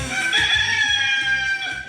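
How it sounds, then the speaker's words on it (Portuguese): A rooster crows loudly and close up, one sustained cock-a-doodle-doo filling the whole moment with no voices over it. "Solta o galo aí, vai."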